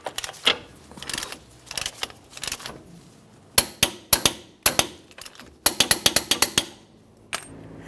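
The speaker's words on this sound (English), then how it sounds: "We can continue tightening this to" A torque wrench tightens the axle nut on a 2012-2015 Honda Civic during front strut replacement, giving a run of sharp metallic clicks in quick clustered bursts with short pauses, loud and close with no speech.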